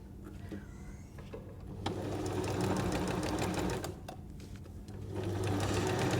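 Sewing machine running a hem around a napkin edge, a close, steady motor whir with rapid needle clatter that surges louder partway through and continues with brief slowdowns, no talking.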